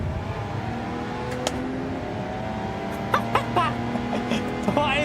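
Racing cars in Gran Turismo 7 at Monza accelerate with a steady engine drone underneath, joined later by sharper rising revs and gear-shift bursts from a car nearby.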